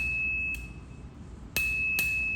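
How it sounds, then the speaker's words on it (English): An N+1 bicycle bell rings with bright, sustained pings, three separate strikes each leaving a clear, ringing tone that hangs between hits, close and moderately loud, with no talk. "It's a N+1 bell."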